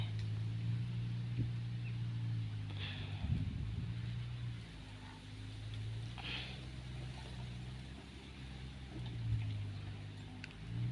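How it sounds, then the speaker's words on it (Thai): Outdoor wind buffets the microphone in low, uneven rumbling gusts that swell and fade across the whole stretch, with faint background sounds mixed in. "ลมพัดว่อยว่อย"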